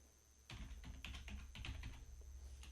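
Someone types ipconfig on a computer keyboard: a quick burst of crisp, close key clicks of uneven rhythm, about ten strokes over a quiet background hum.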